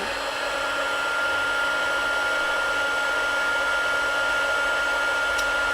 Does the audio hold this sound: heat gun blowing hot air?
yes